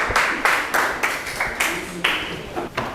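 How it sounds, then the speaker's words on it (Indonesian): A class claps for a student group in a series of short, sharp bursts of hand claps that come in a quick repeated rhythm close by, with no talking over them. "Kita tepuk tangan untuk kelompok 2"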